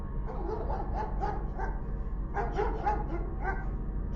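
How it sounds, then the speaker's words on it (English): Two pet dogs, Finn and Kylo, growling and barking together, a string of sharp, fairly close yips and barks over a constant low rumble. "Finn obviously heard this and started growling and barking, causing Kylo to do the same."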